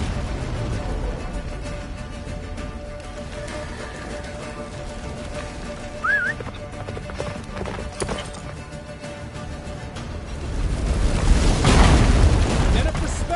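Hooves of a horse galloping in the video game The Witcher III, a steady clip-clop running under a busy game soundscape with wind or rain-like noise, swelling louder near the end.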